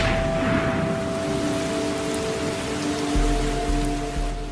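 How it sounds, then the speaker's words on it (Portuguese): Steady rain falling in the Brazilian Amazon rainforest, a dense even hiss of drops with a faint low hum running underneath throughout. "Cerca de 250 centímetros de chuva caem todos os anos."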